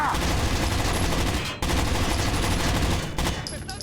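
Dense, continuous rapid gunfire from a roughly 20-year-old video game, loud and relentless with a brief break, rattling without pause.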